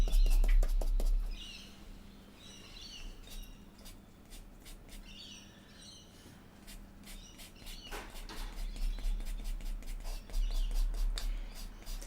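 Small birds chirp and tweet in quick, scattered bursts, faint to moderate, with low background hum throughout.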